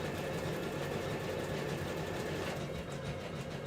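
A home sewing machine stitches a garment's underarm seam at 5/8 inch, a steady, fast mechanical whir with a low rattling hum, running continuously and close by, easing off slightly near the end.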